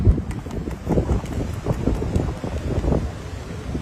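Outdoor wind gusts roar and buffet the microphone during kite flying in open farmland, a steady low rushing noise with uneven surges and no voices.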